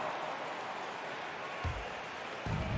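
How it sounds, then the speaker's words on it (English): A virtual arena crowd in an NBA 2K23 basketball game applauds for a player checking in, a faint, steady wash of clapping and crowd noise with a couple of brief low thumps. "Give him a round of applause."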